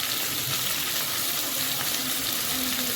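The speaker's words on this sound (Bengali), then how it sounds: "এদিকে ভাজাটা হতে থাক" Food frying in a home kitchen pan gives off a steady, close crackling sizzle that runs evenly for three seconds without any speech.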